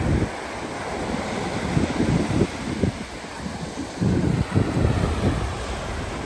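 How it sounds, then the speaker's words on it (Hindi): Ocean waves wash onto a white-sand Canary Islands beach, a steady surf roar mixed with gusty wind buffeting the microphone, swelling in a few louder surges, with no voices. "और लहरों की ये आवाज़ें सुने।"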